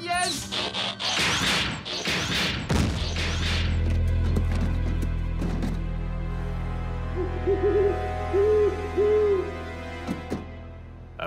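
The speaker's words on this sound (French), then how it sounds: "À moins que ce ne soit juste un hibou." A cartoon owl in an animated Transformers: Rescue Bots episode gives three soft, rising hoots in a row, following louder crashing effects and talk.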